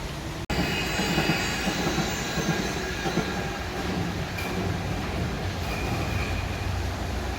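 A steady, broad rumble of a freight train rolling past below on an elevated railway in Germany, continuous and fairly distant, with no voices over it.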